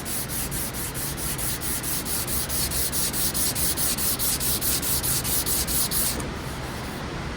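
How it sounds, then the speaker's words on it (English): Hand sanding a wooden stool top along the grain, a steady back-and-forth rasping in even rhythmic strokes, close and continuous, stopping near the end. "So I'm going to continue to sand until those disappear."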